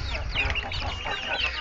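Young chicks set out in the sun cluck and peep in quick overlapping calls, close by and fairly loud, with a low rustling underneath.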